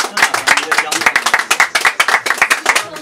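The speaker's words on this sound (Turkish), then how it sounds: "Alkışlıyoruz, evet. Büyük alkış." Brief bursts of clapping, loud and close with an uneven rhythm, from a small group responding to a talk show host's call for a big round of applause.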